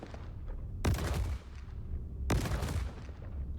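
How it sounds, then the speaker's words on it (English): Missiles firing in the Star Citizen space game, heard as two sharp, loud launches about a second and a half apart, each trailing off in a rumbling roar over a steady engine hum. "So I'm gonna shoot some missiles"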